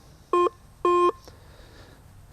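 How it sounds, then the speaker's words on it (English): A Prizm 6T metal detector gives two short, clean electronic target tones in quick succession, the second slightly longer, loud and close against a faint background hiss. "Listen for solid repeatable beeps"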